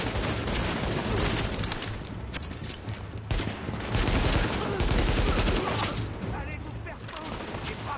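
Sustained automatic gunfire from The Division, dense rattling bursts and shots firing near and far in a continuous barrage for several seconds, with voices talking underneath.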